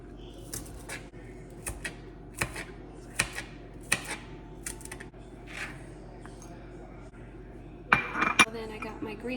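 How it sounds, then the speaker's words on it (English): A knife chops green onions on a cutting board in a home kitchen, a series of sharp, close taps spaced about a second apart, ending with a couple of louder clinks, with faint room noise between strokes. "I'm gonna go ahead and cut the green onions"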